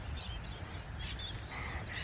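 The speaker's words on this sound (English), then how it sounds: "And all you can hear are the birds chirping." Small birds chirp faintly and sparsely outdoors on a foggy morning, with a low steady rumble of open air beneath them.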